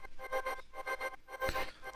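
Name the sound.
vocal pad panning from left to right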